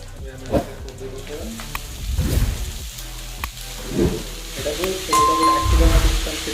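Ginger garlic paste sizzling in hot oil for veg momos, a steady soft crackle with occasional spits and stirring, close by and fairly quiet.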